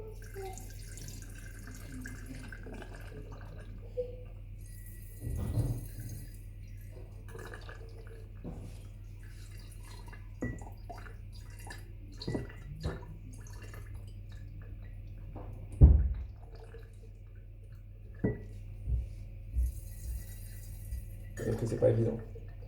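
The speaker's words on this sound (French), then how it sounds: "Versons 250 ml d'alcool à 90 dans le bocal." 250 ml of 90% alcohol poured into a glass jar gives a faint, intermittent trickle and a few drips, with light knocks of glass in a quiet room.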